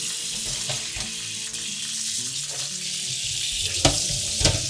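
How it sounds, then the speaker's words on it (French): Food rinsed under cold running water in a kitchen sink after boiling, a steady close hiss of flowing water that keeps going throughout, with a couple of brief splashes near the end. "Et on va tout rincer à l'eau froide."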